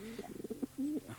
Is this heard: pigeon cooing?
yes